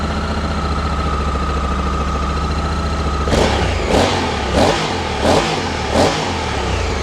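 A motorcycle engine runs at a steady idle after a refuel with fresh fuel, then is revved in five sharp, evenly spaced bursts, loud and close, with no talking.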